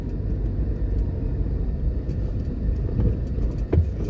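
A car drives along rough, potholed roads through the Allerdyce area of Jamaica, heard from inside as a steady low engine and road rumble with a few bumps and rattles.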